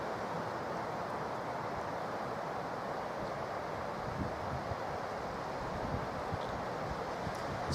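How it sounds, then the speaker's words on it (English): Steady, unbroken roar of wind rushing through trees in Delamere Forest in the evening, a broad rustling wash with no pauses, moderately loud and constant throughout. "It's quite windy, so there's a lot of tree movement and sounds."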